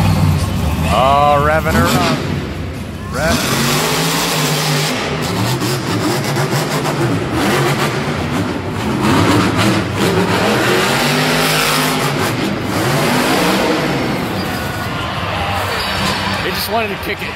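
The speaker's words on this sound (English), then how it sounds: "Revving her up." Monster truck engines revving at a monster truck event, a loud sustained roar with repeated surging pitch swells, under crowd noise and talk.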